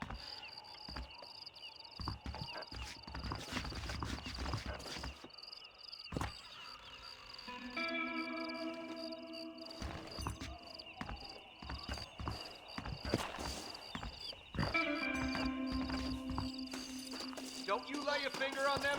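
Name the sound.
horses walking in video game Red Dead Redemption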